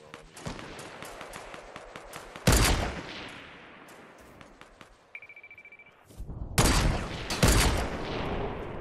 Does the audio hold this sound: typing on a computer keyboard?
no